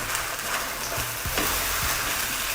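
Beef, noodles and sauce stir-frying in a wok, a loud continuous sizzle with scraping spatula strokes and tossing sounds, close and without talk.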